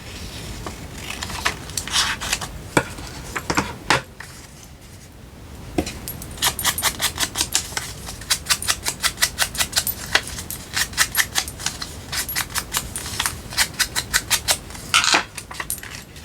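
Scissors cutting a piece of paper in half while making a little matchbook: a long run of crisp, rapid snipping clicks, close and fairly loud, with a brief quieter pause early on and no talking.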